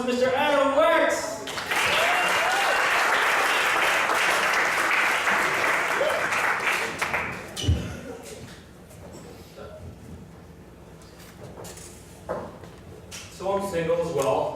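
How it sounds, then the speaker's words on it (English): A stand-up comedy audience breaks into loud, sustained applause for a comic being brought to the stage, holding strong for several seconds before tapering off, with a host's voice heard at the start and end. "Please give a big round of applause to Mr. Adam Wex."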